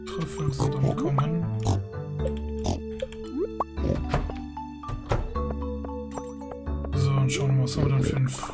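Cartoonish pig oinks and grunts from the farming game Stardew Valley, several short calls over busy game music and effects, with someone speaking German over them.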